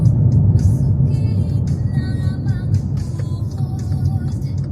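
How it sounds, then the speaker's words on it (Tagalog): A truck passes on a wet road during a road trip, its engine a loud low rumble close by, with higher whining and squealing tones sweeping over it for several seconds. "Truck yan eh."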